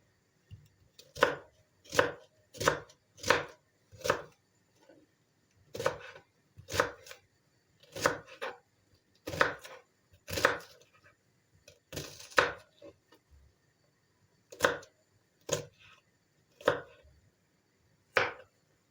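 Crisp knife chops through peppers and garlic on a cutting board, about fifteen evenly spaced strikes in short bursts with brief pauses, close and clear with no talking.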